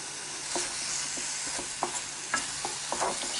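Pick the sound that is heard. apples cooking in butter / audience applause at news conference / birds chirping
apples cooking in butter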